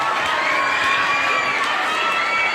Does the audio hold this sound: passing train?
no